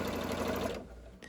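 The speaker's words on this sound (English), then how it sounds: "to help the needle and the sewing machine continue to move forward" A sewing machine stitches recycled denim for an envelope pillow cover, running in a fast, even chatter before stopping abruptly.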